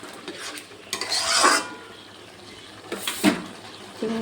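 Spice paste with turmeric and melted tomato being stirred and sautéed in a pan, with two bursts of spoon scraping and metal clatter over a low sizzle, close and fairly loud.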